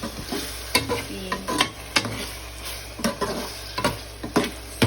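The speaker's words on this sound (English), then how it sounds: "So all we have to just wait for this to saute" Onions sauté in vegetable oil for a Sierra Leonean molokia sauce, a constant sizzle punctuated by repeated clinks and scrapes of a spoon stirring the pot, close and without talk.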